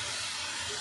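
Sweetened prawn malai curry gravy bubbles on the stove as a steady, close, breathy hiss with a faint low rumble, unbroken for under a second.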